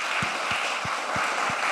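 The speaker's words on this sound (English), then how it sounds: "Can I get a round of applause?" Audience applause at a growth-capital funding talk, a steady wash of clapping from a crowd filling the whole stretch, with a few distinct louder claps standing out, fairly near and sustained.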